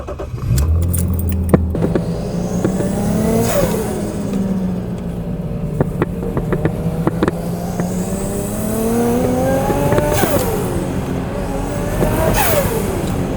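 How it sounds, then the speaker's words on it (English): A cheap Honda Civic EK does donuts, its engine revving up and down in repeated sweeps. Loud tire squeal and clattering noises sound close by, with no talking. "take the car and do some donuts around the sushi machine"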